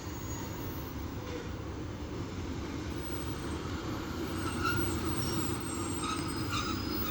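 Class 156 passenger diesel multiple unit pulling away from a station, a steady low rumble of engine and wheels with faint rail squeal, continuous and fairly close with no talk.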